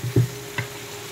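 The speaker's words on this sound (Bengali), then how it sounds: "তো এইভাবেই নাড়তে চাড়তে একবারে আমি ভাজা ভাজা করে ফেলবো।" Dried fish (shutki) fries in a pan under a faint, steady sizzle, with two soft knocks of a utensil stirring it close by.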